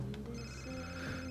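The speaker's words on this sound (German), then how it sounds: "Okay, wir sollten ans Telefon gehen." A telephone rings in the video game Fahrenheit, a steady electronic ringtone tone filling the short moment alone, without talk.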